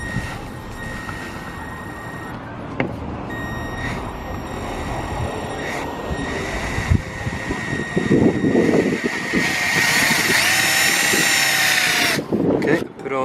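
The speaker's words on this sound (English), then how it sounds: "Mark here at 300. Pre-drill" A power drill pre-drills a hole in a wall panel during a Toyota Hiace campervan conversion, whirring up loud and close in the latter half, with short bursts and handling noises before it.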